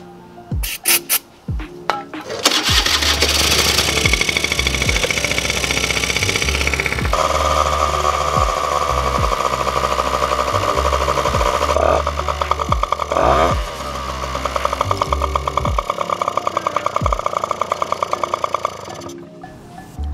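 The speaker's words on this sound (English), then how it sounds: "Just gave it a little bit of carb cleaner, and now this thing is starting right up." A Honda Aero 50 scooter that sat for years, its carburetor just sprayed with carb cleaner, sputters through a few attempts, then catches and runs with a loud, buzzy two-stroke drone and revs near the microphone, dropping back at the end.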